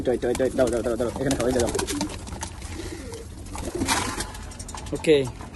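Pigeons coo repeatedly in a home loft where racer pigeons are kept, soft rolling calls close by, with someone talking over and between them.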